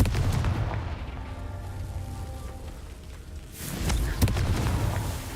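Confringo blasting spell explosion in the video game Hogwarts Legacy, a loud broadband burst arriving near the end over a steady rumbling game background, with a sharp crack close by.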